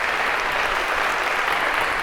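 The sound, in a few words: audience applause for volunteers in lecture hall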